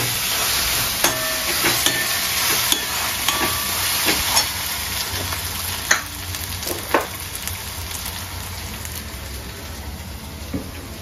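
Onions sizzling in hot oil in a pan for Malvani bangda tikhla curry, a steady loud fry hiss with scattered crackles and occasional spatula scrapes, close up and alone.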